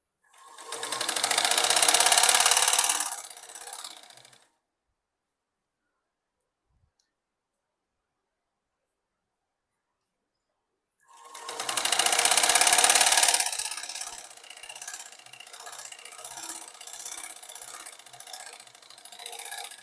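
A sewing machine stitches a seam on a ladies' salwar in two bursts, loud and close whirring runs separated by a pause of silence, the second run easing into lighter intermittent stitching.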